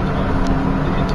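A car cruises along a tollway at speed, a steady loud roar of engine and road noise heard from inside the cabin, with no talking.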